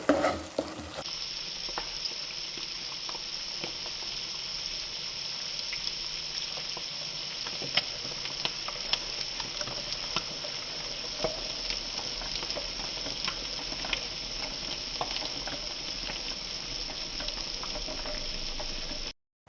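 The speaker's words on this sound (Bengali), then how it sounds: "ততক্ষণ আমি মশলাটাকে একটু ভেজে নিই।" Spice masala paste for a mushroom curry fries in a pan with a steady, dense sizzle and frequent stirring scrapes, loud and close, with no voices.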